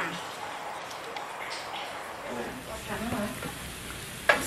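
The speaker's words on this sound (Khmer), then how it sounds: "ឥឡូវយើងមកពងខ្ទឹមពងខ្ទឹមឲ្យវារៀងឈ្ងុយបន្តិចសិន" Garlic fries and sizzles softly in a pan with an occasional stir and a brief clink near the end, while a voice talks over the quiet crackle.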